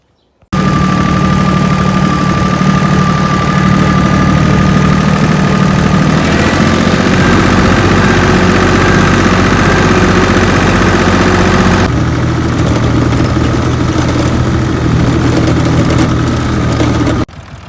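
A tractor pulling a 1.5 m disc harrow drives to a field on a frosty morning, its diesel engine droning loudly and continuously at close range, the tone shifting slightly as the load changes.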